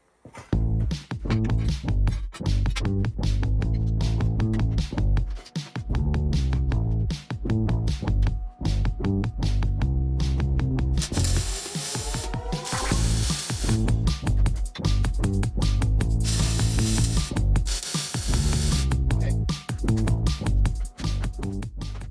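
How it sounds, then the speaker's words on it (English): Bolts are plug welded onto a steel pipe axle, producing a loud, continuous crackling hiss that runs close and unbroken, with brief gaps where the arc pauses. "So we'll just plug weld it and call it good."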